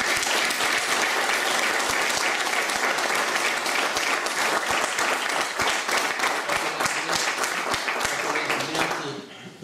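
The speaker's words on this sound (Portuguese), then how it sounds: "uma salva de palmas para Salgueiro de Maia." Sustained applause from a large political rally audience honouring a revolutionary figure, dense and loud throughout before tapering off at the very end.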